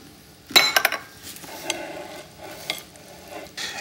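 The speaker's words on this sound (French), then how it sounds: "Et encore une fois, on remue pour que tout soit bien mélangé." A spoon stirs quartered fresh mushrooms, halved cherry tomatoes and sliced green onions in a bowl, giving a few sharp clinks against the dish followed by softer scraping, with no talk.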